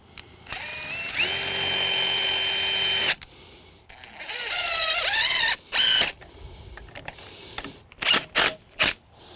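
Power drill driving screws into deck framing, long steady whirring runs broken by short rising bursts as screws seat, close and loud with brief pauses between.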